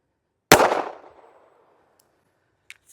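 A single loud, close shot from a S&W Bodyguard 2.0 pistol firing 90 gr Sig Sauer Elite Performance .380 ACP, with a sharp crack and a decaying tail, followed by a faint click near the end.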